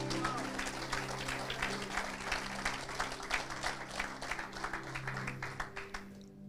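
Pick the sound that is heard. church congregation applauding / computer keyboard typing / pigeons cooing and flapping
church congregation applauding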